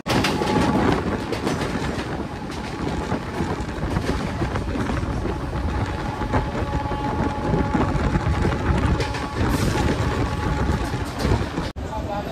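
A passenger train near Santragachi station in the Kolkata area rumbles along the rails with a dense, steady roar and faint rhythmic clatter, heard close from on board with some voices underneath.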